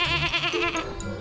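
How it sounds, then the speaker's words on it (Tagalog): A newly bought goat gives a single loud, wavering bleat close up, heard on its own. "Kakabili lang namin na kambing."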